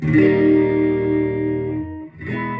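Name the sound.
clean electric guitar tone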